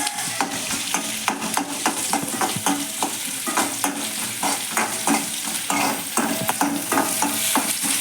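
Small onions stirred and sautéed in a frying pan with green chilli and a little salt, steady sizzling with frequent rhythmic scraping of a spoon against the pan, close and clear.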